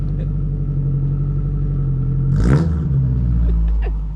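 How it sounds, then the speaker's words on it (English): A 1987 Toyota pickup with a new exhaust idles with a deep, loud rumble, then revs sharply once before settling back to a steady idle, heard up close. "Oh, I love this exhaust."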